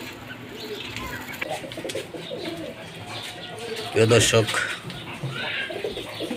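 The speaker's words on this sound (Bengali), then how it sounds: "দেখতে পাচ্ছেন কবুতর উড়ে এখন ট্র্যাপিংয়ের জন্য নেমে এসেছে।" Pigeons coo and flap their wings while coming down to land in a loft yard during a flying session, with someone talking over them throughout and a louder burst of wingbeats midway.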